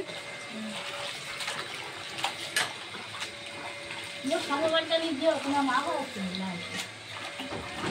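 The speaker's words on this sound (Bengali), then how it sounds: "এই যে এখানে দেখুন, সবজি ধোয়া হচ্ছে।" Vegetables are washed under running water at a home festival gathering, with a continuous splashing flow and clattering. People talk over it in the background.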